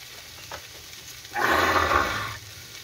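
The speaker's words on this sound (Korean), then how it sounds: "튀기네." Pork belly sizzles on a grill at a camp meal, with a steady frying hiss that swells suddenly to full loudness, holds for about a second, then fades away.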